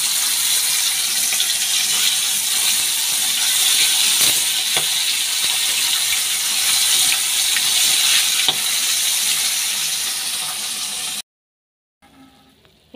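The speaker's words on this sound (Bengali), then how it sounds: "পোকা ইলিশটা আগে ভেজে নিই" Hilsa fish frying in a pan gives a steady, loud hiss and sizzle that runs unbroken for about eleven seconds, with a few faint clicks, then stops abruptly before a short, quiet tail.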